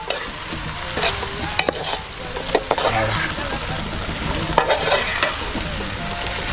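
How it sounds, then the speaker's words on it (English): Onions stir-frying in oil for Senegalese yassa: steady sizzling and crackling with scraping stir strokes and occasional clinks of a utensil against the pot, close and continuous, with faint voices in the background. "We're going to stir fry this."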